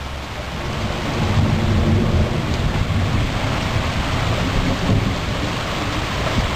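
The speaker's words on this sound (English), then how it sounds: "Might have heard a little thunder right there." Low, rolling thunder rumbles steadily through a downpour during an Iowa storm, with rain pattering and hissing throughout and the rumble swelling midway.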